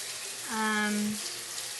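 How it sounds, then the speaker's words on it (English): Steady hiss of video game rain fills the background while a voice briefly speaks a drawn-out word over it. "It's raining."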